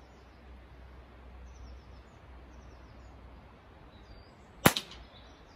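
An air rifle fires outdoors, and the pellet strikes wood in a single sharp crack that is followed at once by a quick smaller echo. Quiet background hiss and faint birdsong come before the shot.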